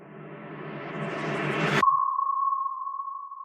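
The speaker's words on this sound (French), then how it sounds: "J'ai rajouté un petit riser ici." A rising riser effect in a music production builds in noise and brightness for almost two seconds, then cuts abruptly to a thin, steady ringing tone that fades out alone.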